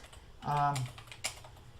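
A computer keyboard gives a few close, light key clicks while a short voice sound briefly overlaps them.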